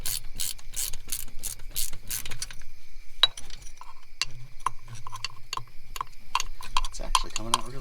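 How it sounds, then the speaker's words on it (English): A flex head 17mm ratchet loosening a bolt on the AC compressor of a 2005–2010 Honda Odyssey, heard up close as quick runs of sharp pawl clicks with pauses and some metallic handling noise. "flex head 17mm ratchet"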